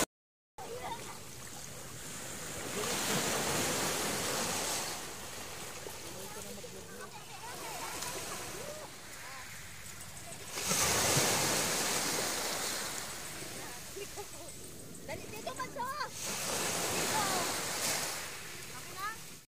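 Ocean waves rolling in and washing onto shore in broad swells of surf, with faint talking underneath.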